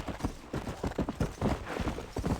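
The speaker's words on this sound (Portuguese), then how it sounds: "Andar de cavalo no Red Dead 2 é uma delícia." Horse hooves clip-clop in a quick, steady rhythm as a horse is ridden in Red Dead Redemption, close and clear with no talking over it.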